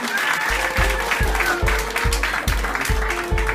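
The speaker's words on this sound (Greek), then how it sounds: "Δεν το άκουσα το χειροκρότημά σας καλά." Audience at a graduation ceremony claps steadily, with a regular low thumping pulse beneath the dense applause throughout.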